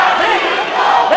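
A boxing arena crowd roars and cheers loudly in a dense, sustained wall of voices, with no other sound standing out.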